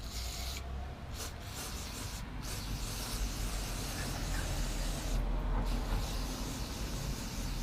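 Aerosol cleaner sprays onto a mass air flow sensor outdoors, a steady hissing spray throughout, rising slightly in intensity, with a continuous broadband rush and some low rumble underneath; no voices.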